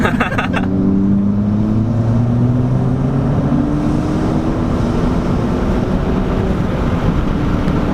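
Loud interior engine note from a Ford Fiesta ST Stage 3 under hard acceleration, a droning tone climbing steadily in pitch, then continuing as a strong rushing drone with road noise.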